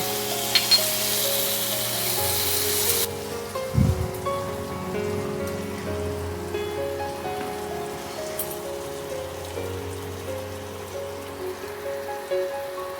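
Chopped tomato hitting frying onions in a pan while cooking Dragon Chicken: a bright, loud hiss of oil gives way abruptly to a softer, steady sizzle, with a brief clunk of the pan or spoon along the way.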